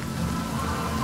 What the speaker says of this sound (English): that rain sure is soothing